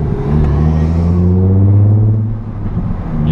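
A Nissan 350Z with a Tomei exhaust revs through a short shift, a deep droning engine note climbing and dipping up close, loud and steady with no voices.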